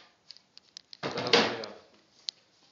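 A door creaks open into a low cellar room under a university house, a short scraping, creaking swing of about a second, close and fairly quiet, with small clicks and knocks before and after.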